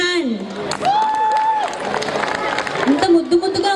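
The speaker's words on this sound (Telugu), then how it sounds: "Please give them a big hand." Audience applause rises after a children's classical dance performance at a Bathukamma and Dussehra festival event, a dense steady clatter of clapping under and around an announcer's voice through most of the stretch.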